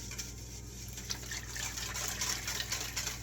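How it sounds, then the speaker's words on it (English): Tempered ice cream base is poured into a pot, a soft continuous liquid gush and splash at low level, heard alone. "I'm just going to pour the rest in here."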